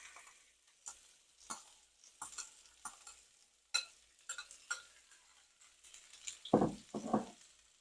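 Meat sears in hot oil in a pan with adobo seasoning for fajitas: quiet, scattered ticks and crackles, then two louder sizzling bursts close together near the end.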